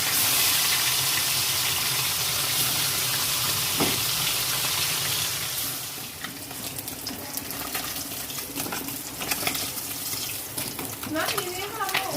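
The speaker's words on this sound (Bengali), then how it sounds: "গ্যাসে মাছটা ভাজছি" Fish frying in a pan on a gas stove, a loud steady sizzle that fills the first half and then eases into a softer, crackly fry with scattered pops and clinks.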